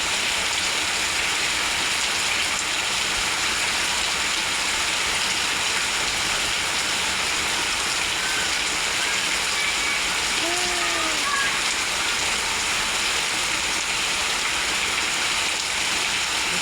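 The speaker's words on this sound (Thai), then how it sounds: "อ้าวฝนเริ่มแรงแล้ว" Heavy rain pours down in a dense, loud, steady hiss around ornamental caladium plants, with a brief faint bird-like chirp partway through.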